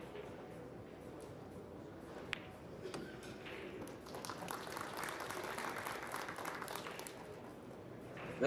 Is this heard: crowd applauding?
yes